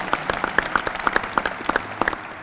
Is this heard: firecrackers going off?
no